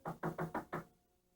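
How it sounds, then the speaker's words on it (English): Five sharp raps on a wooden door in quick, even succession, close and fairly loud, then the room falls quiet; set in a classic fairy-tale telling of Snow White. "there came a knock on the door"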